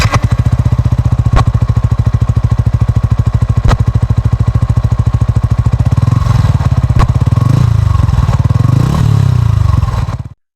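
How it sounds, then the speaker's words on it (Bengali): A Yamaha R15 v3 motorcycle's exhaust burbles loudly and close at a steady idle, then is revved in several rising and falling swells before the sound cuts off abruptly. "এখন বাইকটির এক্সস্ট নোটটি একটু শুনে নেওয়া যাক।"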